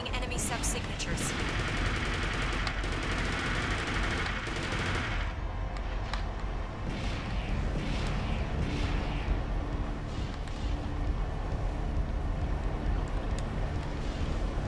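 Fast missile salvos and gunfire in the mech combat game Armored Core 4 on PS3, a dense, continuous roar of rapid shots and blasts that stays loud throughout, with sharp bursts near the start.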